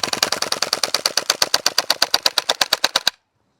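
VFC SCAR gas blowback airsoft rifle emptying a full magazine in one long rapid burst, about two dozen sharp mechanical cracks in an even rhythm, close and loud, then cutting off to silence.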